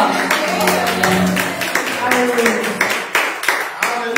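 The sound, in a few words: congregation clapping hands in church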